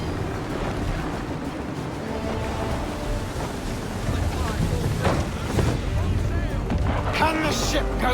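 Sailing ship ploughing through ocean waves in Assassin's Creed 3, a steady rush of water and wind throughout with a few sharper splashes, and voices talking over it.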